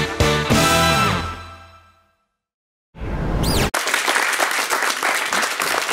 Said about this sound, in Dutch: Dat mag van klappen.